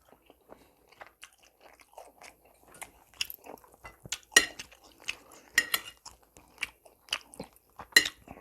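Beef Chapaguri instant noodles are eaten up close: wet chewing, slurps and sharp crunchy bites come in irregular bursts, mixed with light clinks of utensils against a dish, and nobody speaks.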